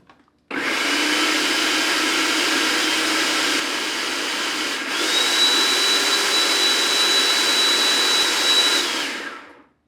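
Food processor whipping cream into butter, a loud continuous motor whine starting abruptly, holding steady with a slight shift in pitch midway, then winding down, close and without talk.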